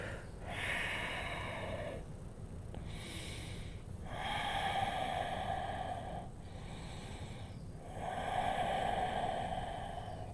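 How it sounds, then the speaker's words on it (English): Slow, deep breaths during a vinyasa yoga forward-fold stretch, with three long inhale-exhale cycles sounding close and steady, no talking. "Stretch, a few breaths here."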